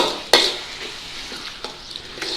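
Curry leaves dropped into hot oil for bhindi masala give a sudden sharp crackle and spit, settling into a steady soft sizzle with light stirring clinks in a pan.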